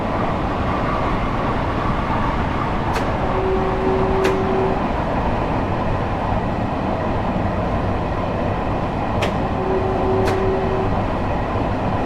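A train on the Harlem Line in the Train Sim World railway game rumbles past alongside, a loud continuous rolling roar with periodic sharp clicks from the wheels over rail joints and a faint tone, no talking.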